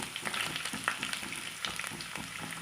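Garlic dropped into hot oil for Jathika pickle, giving a soft, crackling sizzle with irregular pops and stirring scrapes, close but fairly quiet and without voices.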